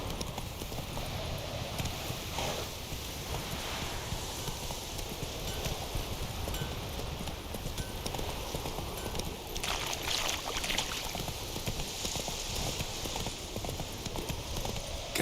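Roach, a horse in the video game The Witcher 3, with continuous clip-clopping hooves heard close up over a dense, noisy ambient background.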